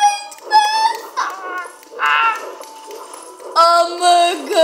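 A dog in a Lego Pirates video game gives short, high, bright yips and whimpering barks in quick bursts, loud and close, with pauses between.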